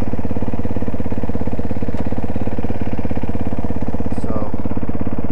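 A motorcycle engine idles in first gear with the rider aboard, a loud, close, evenly pulsing thump that runs unbroken throughout.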